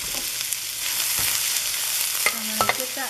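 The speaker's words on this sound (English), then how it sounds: "I'm gonna put the onion in, and you want to make sure that it's really hot" Steady loud sizzling of onion stir-frying in very hot oil, close by, with a few crackles and pops and light utensil scrapes.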